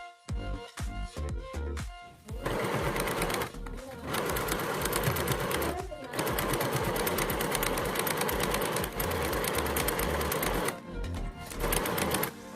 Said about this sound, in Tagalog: At tinahi ko ito ng straight stitch.